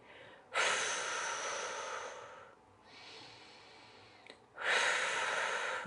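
Strong, long exhales during a yoga exercise for the lower back, two forceful breathy blows close to the mic with a softer, quieter breath between them.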